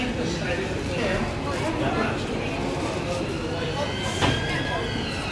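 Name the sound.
DLR train at a station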